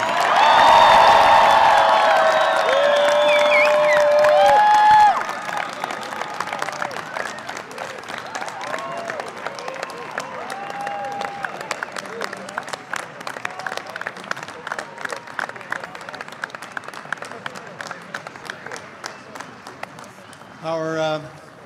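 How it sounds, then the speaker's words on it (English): Applause for the graduating class of 2014 at the UVA Darden School of Business graduation ceremony. A tonal sung or musical passage comes first, then a large crowd claps steadily for about fifteen seconds before tapering off. "Can we have a round of applause for the class of 2014?"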